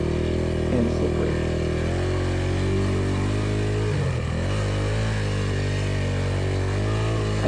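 A motorcycle's engine revs steadily and loudly throughout while it crosses a deep, slippery riverbed with moving water, with the clutch slipped to keep the revs up and a brief dip and surge partway through.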